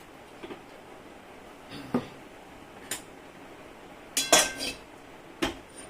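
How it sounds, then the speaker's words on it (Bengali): A lid set over a Bengali steamed egg dish makes a few sharp metallic clinks and clatters, spread out and fairly close, with the loudest cluster of rattling contacts near the end. "এখন আমি ঢাকা দিয়ে দেবো এটা"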